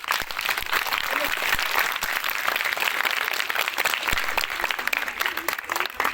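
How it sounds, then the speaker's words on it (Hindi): Schoolchildren and teachers at a quiz competition at a high school clap loudly and continuously for a student, a dense, sustained round of applause. "मैं तमाम बच्चों से उस्ताद से अपील करता हूँ कि आसिफ जी के लिए ताली लगाएं।"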